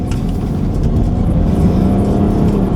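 A Land Rover Discovery 5 diesel engine revs hard toward its red line, a loud, sustained drone that holds steady and close throughout with no voices over it.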